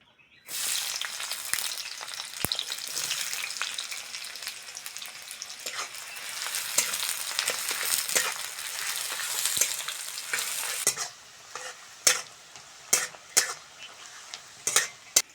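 Chopped onion hits a hot pan and sizzles loudly and continuously for about ten seconds, then the frying fades out and a few sharp clinks of utensils against the pan follow.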